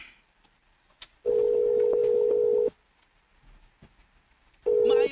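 Telephone call tone: a loud steady electronic beep lasting over a second, a silent gap, then the same tone starting again, with only faint room noise between.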